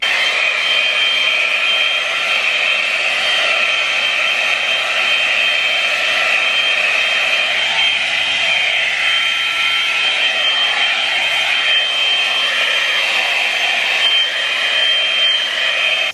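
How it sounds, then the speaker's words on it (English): A hair dryer blow-drying hair roars continuously and loudly close to the microphone, a steady high-pitched whine holding throughout with slight shifts as it moves. "Just seems like a nice little blow dry."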